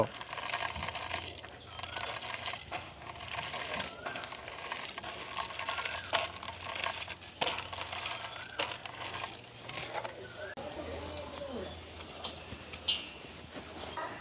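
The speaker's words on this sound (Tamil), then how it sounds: "இதே மாதிரியே எல்லாத்தையும் நாங்கள் இடித்து எடுத்துக்கொள்வோம்" Ingredients are pounded with semolina in a village kitchen, making repeated sharp crunching and rattling knocks in dense bursts that thin out and soften near the end.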